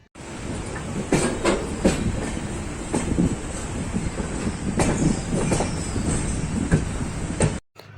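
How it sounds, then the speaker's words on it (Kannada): A train pulls into a station platform, wheels clattering and rumbling loudly and close with repeated sharp clanks and squeals as it rolls in and slows, ending abruptly. "ಟ್ರೈನ್ ಬಂತು ನಿಲ್ತು"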